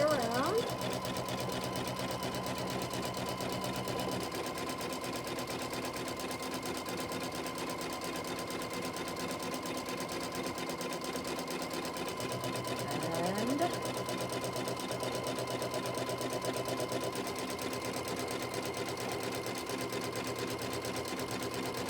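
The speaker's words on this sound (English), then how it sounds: "Now it's stitching the cutting line." An embroidery-style sewing machine stitches a flying geese quilt block in one continuous, even mechanical whir with changing pitch sweeps as it moves, while a person talks quietly over it.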